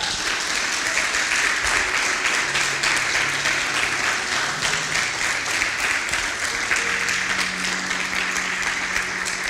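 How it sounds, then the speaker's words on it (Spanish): A church congregation applauds at a Pentecostal-style service, dense and sustained clapping that fills the hall continuously at a steady level, with faint voices mixed underneath. "Yo le hubiese dado un aplauso al Señor así."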